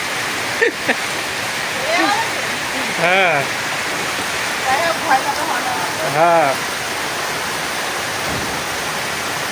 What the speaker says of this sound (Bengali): এই বৃষ্টি তো থামার নামই নেবে না মনে হয়